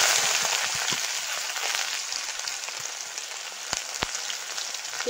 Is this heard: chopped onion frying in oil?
yes